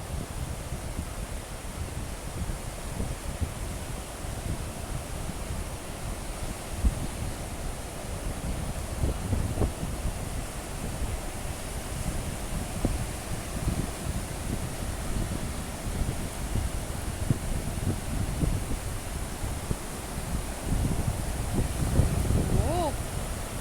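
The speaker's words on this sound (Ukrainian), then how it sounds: "Хвилі вам такі конкретні." Ocean surf rolls onto a beach at low tide while wind buffets the microphone, a continuous low rumble of waves with gusty noise, steady and fairly faint for over twenty seconds.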